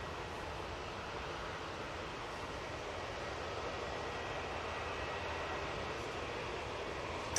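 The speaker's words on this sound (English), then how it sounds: "Virgin Atlantic A350 now on" A Virgin Atlantic Airbus A350 jet edges forward at Manchester Airport, giving off a constant, even engine rumble and hiss at moderate distance that stays level from start to finish.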